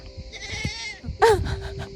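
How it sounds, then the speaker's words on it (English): A goat gives a loud, wavering bleat close by, followed by a short second cry, with little else around it, on a walk to the beach in Ikaria, Greece. "That's a goat."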